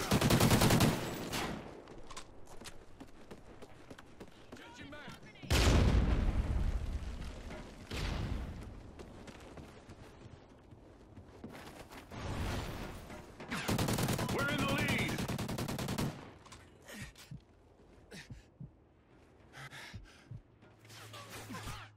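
Gunfire in the multiplayer shooter Call of Duty Ghosts comes as bursts of shots and impacts over game noise, loud at times and quieter between volleys, with a player's voice gasping and reacting.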